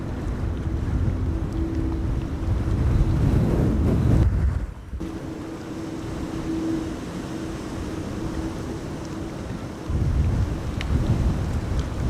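Strong storm wind roars at an airport during Storm Amy. The gusting blast and microphone buffeting are loud at first, drop off sharply around the fifth second, stay at a lower rush, then surge again near the end.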